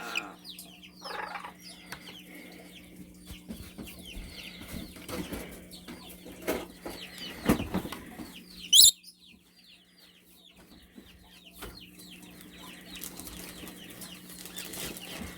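Pet bird making soft clucking calls in a quiet room, short scattered chirps and clucks near the microphone, with a brief wing flap or bump partway through and a low steady hum beneath.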